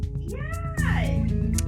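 A cat meows loudly and close, a drawn-out wailing call with a rising then falling pitch, followed by a second, harsher meow over a steady low background hum.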